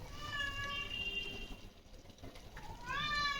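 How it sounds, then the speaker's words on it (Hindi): Two pet cats meow while waiting for their food in a home kitchen where rice water is boiling; two drawn-out, rising-and-falling meows come close and clear, one at the start and another near the end, over a steady background hiss. "और बिल्लियाँ हमारी बैठी हैं, वेट कर रही हैं अपने खाने का।"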